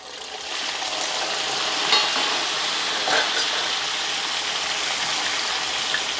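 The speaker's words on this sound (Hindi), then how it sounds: "तेज़ आंच पर एक मिनट के लिए फ्राई करना है" Chicken fries in hot oil over a high flame, a continuous close sizzle with faint crackles running steadily throughout, with no talk.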